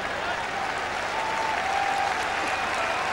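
Sustained applause from a cricket crowd at a one-day international in Bombay, steady broadband clapping throughout with no break, fairly loud and even, with faint voices mixed into the din.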